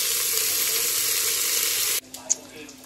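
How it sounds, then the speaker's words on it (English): Onions sizzle in a frying pan with onion powder and garlic powder, a dense, steady crackle close by that cuts off abruptly near the end, followed by a few faint kitchen clinks. "and then now I'm frying the onions, and I'm gonna fry 6 with onion powder and garlic powder as well."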